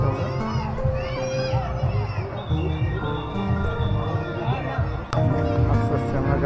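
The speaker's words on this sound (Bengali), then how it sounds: "আর এখানে ভিড় ভালোই আছে।" A busy crowd of children shouts, chatters and plays at a family park, a dense, lively wash of young voices near and far with occasional high squeals, and an adult talking over it.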